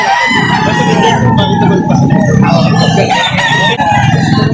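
A Suwan rooster, an eight-month-old gamecock at a poultry market in Lipa City, Batangas, crows loudly and close, the call filling the clip over a busy background of other fowl.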